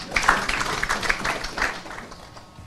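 An audience applauds the chairman after his introduction at the installation ceremony of a county governor as patron of the chamber of commerce in Meru County. Steady, moderately loud clapping runs throughout, with faint voices mixed in.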